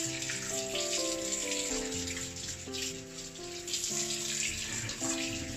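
Tap water runs over a pork belly as it is rinsed after boiling, a soft continuous splashing heard faintly beneath gentle background music.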